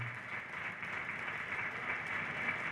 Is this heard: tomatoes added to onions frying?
no